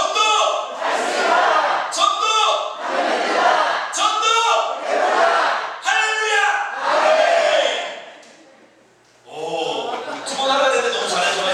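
A Sunday church congregation shouts a chant together in loud, repeated bursts, each roaring phrase broken by short pauses, with one longer quiet gap before the shouting resumes.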